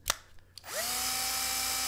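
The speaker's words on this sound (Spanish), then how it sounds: "Taladro y destornillador" A 9-volt cordless drill/screwdriver starts after a couple of faint clicks, its motor whining up to a steady, loud, even hum that holds to the end without talk.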